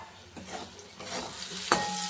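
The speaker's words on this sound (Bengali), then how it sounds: "এরকম বেগুনটা ভাজা হয়ে এসছে," Eggplant pieces frying in a pan with a low steady sizzle, punctuated by a few soft stirring scrapes and one brief sharp clink, fairly quiet and without talking.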